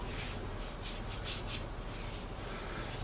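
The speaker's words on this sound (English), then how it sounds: "spread the glue evenly over the bottom" Glue brushed or spread over the bottom of a box being lined with felt, a continuous close rubbing and scraping with a few slightly louder strokes, no voices.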